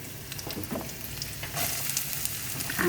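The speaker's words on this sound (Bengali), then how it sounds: "সামান্য একটু তেল দিছি এখানে আদা রসুন পেঁয়াজ কেটে নিছি এগুলি একসাথেই দিয়ে দিব" Chopped ginger, garlic and onion sizzle and crackle in a little hot oil, the frying growing louder and busier partway through, with light stirring and no voices.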